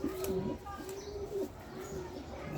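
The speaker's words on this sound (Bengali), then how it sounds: "এগুলো হলো পাকিস্তানি ঘাগরা কবুতর ওরা খুব চঞ্চল" Pakistani ghagra pigeons coo softly in a low, rolling rhythm, several repeated calls close by in a cage, with faint background hiss and no talk over them.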